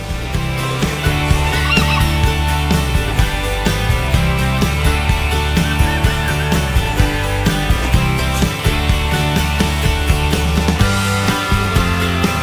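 Around feeding time on a homestead, chickens and other barnyard animals make a loud, continuous din of clucking, honking calls, with many overlapping birds close by and no talking.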